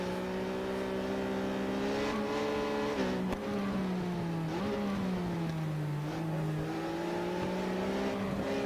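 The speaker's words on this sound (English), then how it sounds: "This is me riding a Triumph Daytona on this clip." A Triumph Daytona motorcycle in the racing game Ride 6 holds a steady, loud engine drone whose pitch rises and falls gently as it rides along, with one brief click midway.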